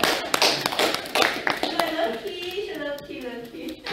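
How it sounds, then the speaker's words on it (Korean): Scattered hand claps sound at a lacquer art academy lecture, a few sharp claps early on before a voice takes over and talks. "박수 박수"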